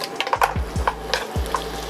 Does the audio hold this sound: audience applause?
no